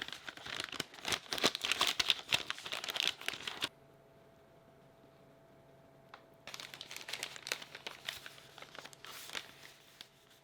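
Crinkling and rustling of a plastic MRE pouch with a flameless heater inside, loud and busy near the microphone for a few seconds, then a quiet lull before the crinkling starts again.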